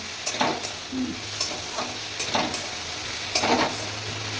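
Fish fat fries in a pan with potato and eggplant, giving a steady close sizzle broken by several soft scraping stirs at irregular intervals, with no talking.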